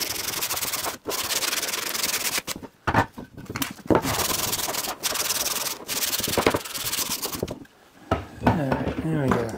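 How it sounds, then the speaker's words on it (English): Hand sanding pieces of a wooden cutting board with sandpaper, repeated close rasping strokes in bursts with short pauses between them, ending in a softer scraping passage. "You gotta make sure you don't want to round off the edges with your sandpaper though"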